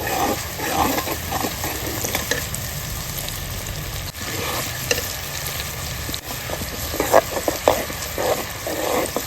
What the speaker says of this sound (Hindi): 2 मिनट भुनाई कर लेते हैं अच्छी तरह।